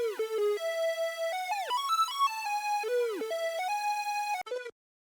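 Dry synth lead built from a default Portal preset with the chopper effect removed, playing a bright melodic line of gliding notes that drop in pitch, ending with a short tail and silence.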